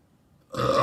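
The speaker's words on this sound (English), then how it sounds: "One last YouTube burp." After a moment of near silence, a man lets out a loud, deep burp that rumbles on steadily for about half a second, close to the microphone and alone.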